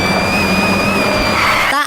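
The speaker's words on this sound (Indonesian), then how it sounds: "tiba-tiba saja semua mobil datang dengan kencang" Cars in a film scene rush in fast, a loud continuous engine and tire roar with a high whine sustained across the moment, cutting off abruptly at the end.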